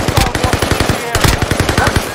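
Rapid automatic gunfire in a shooter video game, a loud dense burst of shots in quick rhythmic succession close up, a brief gap partway through and then more firing.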